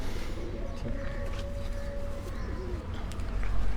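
Pigeons on a rooftop loft coo in low, drawn-out calls amid general outdoor bustle and faint chirps, a fairly busy mix that swells slightly near the end.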